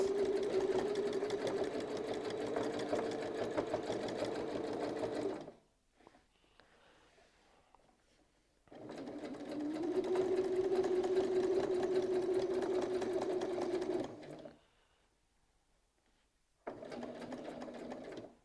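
Sewing machine stitching a quilting pattern along a ruler, steady fast mechanical whir in two long runs and a short third burst, with brief near-silent pauses where the ruler is repositioned.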